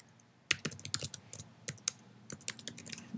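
Keys clatter on a computer keyboard as a Gmail password is typed in, a quick irregular run of close, light taps after a brief pause.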